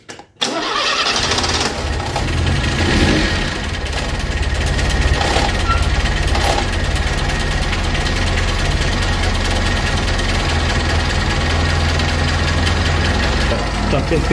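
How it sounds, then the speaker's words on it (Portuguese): A Fiat Uno engine cranks and catches after a fuel pump repair, then settles into a steady, loud idle that runs on evenly with a constant low rumble. "o motor tá trabalhando, tá puxando combustível"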